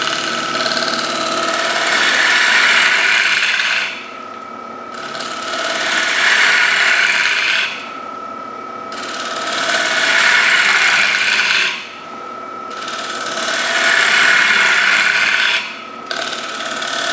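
A wood lathe turns a live edge maple bowl from a small crotch log, a loud steady rasping hiss as the tool cuts, coming in four long passes with short quieter gaps between them and no talking.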